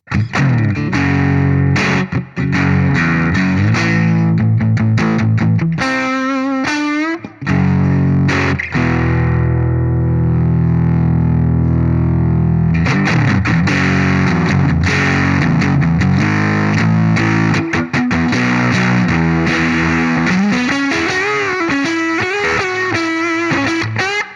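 Electric guitar through a hand-built TEFI Vintage Labs germanium fuzz pedal with gain at about halfway, heavily distorted, fuzzy and saturated, playing sustained chords and riffs with a thick, buzzing tone that stays loud throughout.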